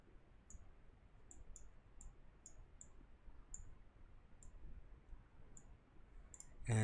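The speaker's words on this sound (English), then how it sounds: "I'm going to click on simulate," Soft, sharp mouse clicks tick at irregular intervals over a faint hiss in a quiet room, ending with a louder thump.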